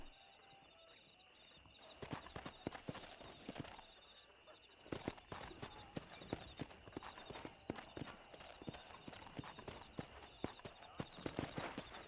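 A horse in Red Dead Redemption trots along with steady clip-clopping hooves, crisp and fairly close, the rhythmic beats continuing through most of the stretch over faint ambient background and occasional birdsong.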